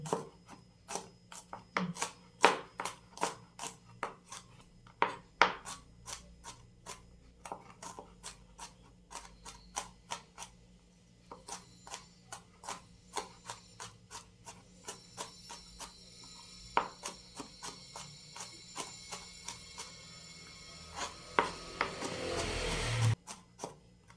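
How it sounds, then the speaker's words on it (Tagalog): Garlic being finely minced with a knife on a board, a long run of quick, sharp chopping taps that speed into dense bursts, close and alone with no talk. "Tagal nga lang ako pag pipino ng bawang"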